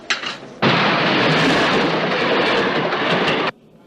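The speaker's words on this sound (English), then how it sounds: "Train service to Salt Lake City," A train roars through a railway station in a loud, dense burst that starts abruptly and holds steady for about three seconds before cutting off. It sounds close and heavy, with no talk over it.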